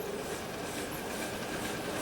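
A steam locomotive train rumbles in a steady, broad wash of rail noise, distant and faint, with no clear chuffs standing out.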